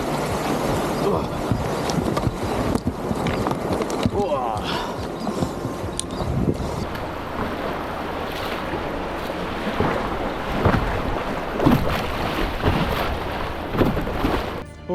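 Rushing whitewater of rapids on the Swan River heard from a paddleboard at sunrise, a loud continuous roar of churning water with wind buffeting the microphone throughout.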